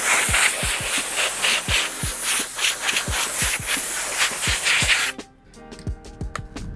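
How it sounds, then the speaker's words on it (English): Compressed air hisses from an air hose while a Fox V3 RS Carbon Solid MIPS motocross helmet is being dried, a loud steady spray with rapid rhythmic thumps underneath, then the blast stops abruptly and the thumping carries on more quietly. "I'm going to use an air compressor, use an air hose"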